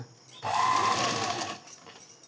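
A sewing machine stitches a blouse in one steady, fairly loud run of about a second, with short quiet gaps before and after and no voices.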